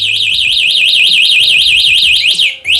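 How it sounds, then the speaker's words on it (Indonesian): An electric mini Harley scooter's lock alarm sounds as a loud, piercing warbling electronic siren that rises and falls rapidly and continuously, then cuts off abruptly near the end. "Kalau kita tekan yang lock dia akan bunyi ke lock"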